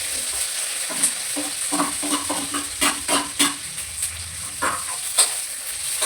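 Onions frying with curry leaves in oil in a pan for sambar, a close bright sizzle broken by frequent clattering stirs of a spoon against the pan.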